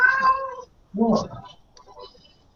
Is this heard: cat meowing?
yes